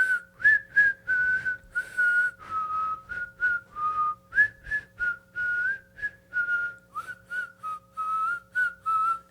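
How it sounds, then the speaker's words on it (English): A person whistles the Kill Bill tune in the woods after dark, a clear run of separate notes that rise and fall in a rhythmic phrase, close and alone with no talk. "I'd probably just do the Kill Bill whistle."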